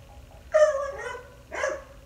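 A dog barks outdoors in two sharp, fairly close barks about a second apart, the first followed by a short strained yelp.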